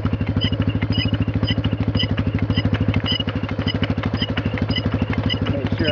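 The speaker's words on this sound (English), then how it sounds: "This motor stays running for me and doesn't die out." A four-wheeler ATV engine idles steadily close by, a loud, even, rapid thumping chug with mechanical clatter that holds without dying out across the whole stretch.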